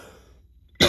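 A single sharp, loud cough bursts out at the very end after a quiet pause, close to the microphone.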